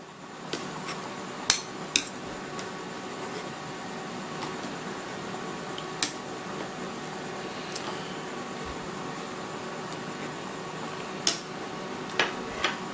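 A spoon clinks sharply now and then against a pot of boiling pork bone broth as foam is skimmed off for a Thai pickled mustard greens soup. The taps are irregular over a steady, close bubbling hiss.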